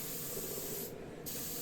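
A spray gun set wide open hisses steadily as it sprays finish onto furniture during refinishing, a continuous close airy spray with a brief dip near the middle.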